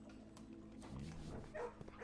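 A dog in a kennel room of the Blue Prince video game barks and yips a few times at low volume, with brief whimpers.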